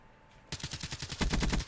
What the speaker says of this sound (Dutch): Terwijl ik wel gewoon lekker aan het knallen ben